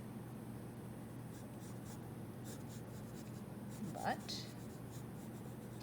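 A pencil or stylus draws short light strokes for wrinkles and extra lines on a fashion design sketch, soft faint scratching under a person's speech.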